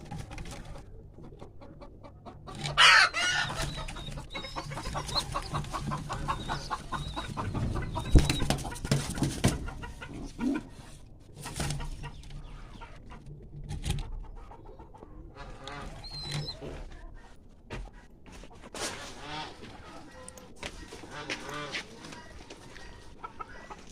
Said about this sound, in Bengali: এখানে একটা মুরগি ডিম তাওয়া দিচ্ছে।